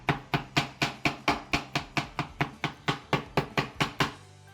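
Knife chopping banana and fruit on a board for a yogurt smoothie: about seventeen sharp, evenly spaced chops in a steady rhythm, close and clear, with no talking.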